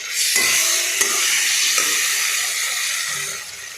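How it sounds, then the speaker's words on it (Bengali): Puti fish curry with eggplant and mustard paste stirred in a hot pan, a bright steady sizzle with a few sharp spoon scrapes and taps, close and alone. "এরপরে আমি ভালোভাবে নাড়াচাড়া করব।"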